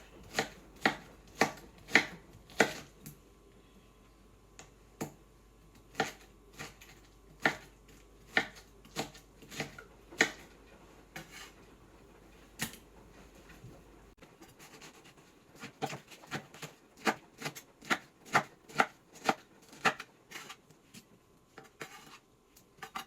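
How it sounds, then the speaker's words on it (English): Fruit for a yogurt parfait is sliced with a knife on a board, making crisp, regular chopping taps close by, steady at first and then quicker and more uneven. "As you can see, the way I'm slicing them."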